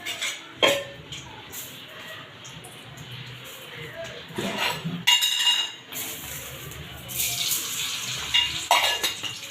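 Tap water runs in short, intermittent bursts into a sink while dishes or ingredients are washed during village-style cooking of chicken sukka, with occasional clinks and quiet pauses between splashes.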